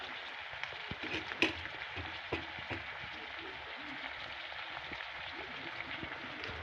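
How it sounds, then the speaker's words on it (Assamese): Garlic and dried chili frying in a pan, giving a faint, steady crackling sizzle with scattered small pops. "এতিয়া দিছোঁ নহৰু আৰু শুকান জলকীয়া"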